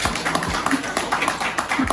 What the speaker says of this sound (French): Est-ce qu'on peut applaudir ça?